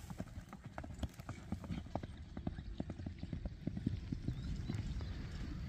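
An Orlov trotter horse, a four-year-old stallion, runs with a steady stream of hoofbeats clopping on the ground at a fast pace, moderately distant and fairly faint.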